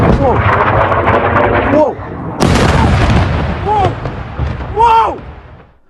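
Iranian ballistic missile strikes hit the residential town of Arad in Israel, a series of heavy booms and rumbling blasts, some far and some closer, over tense background noise with someone speaking briefly.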